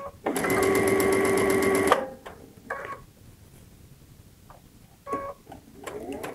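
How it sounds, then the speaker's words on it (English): A Baby Lock Aerial sewing machine stitching fabric with a steady fast whir for about two seconds, then stopping, followed by brief mechanical clicks and whirs as the machine backstitches and trims. "put my foot down on my foot controller. It's going to lower the presser foot for me and start stitching"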